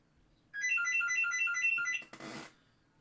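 A telephone rings in a fast, repeating electronic trill for about a second and a half, fairly clear over a quiet room, followed by a brief rustle as it is picked up.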